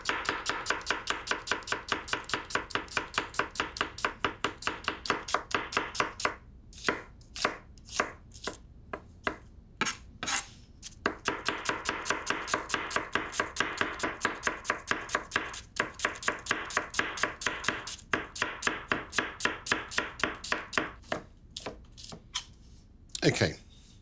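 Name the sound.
slicing onions finely with a knife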